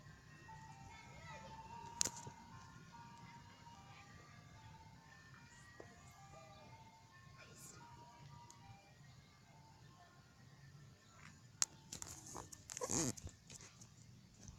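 A white ice cream truck's jingle plays faintly in the distance outdoors. The thin, repeating melody carries on for the whole stretch, with occasional nearby knocks, a dog bark and hushed voices.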